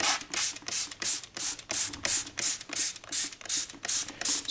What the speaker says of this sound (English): I'm gonna really just spray down this hat where